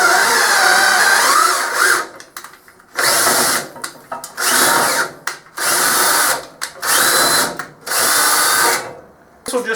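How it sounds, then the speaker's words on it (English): A 3/8 coarse tap, lubricated with tapping stick, is run down through a steel nut by a power drill, in repeated loud whining bursts of a second or so, separated by short pauses. "I'm just using a 3/8 coarse tap, putting a little tapping tap stick on it, and then we'll just run it down through the"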